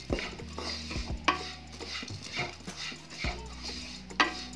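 Dry oats roast in a pan over a medium flame while a spoon stirs them, giving repeated close scraping strokes and light sizzling with soft clinks against the metal.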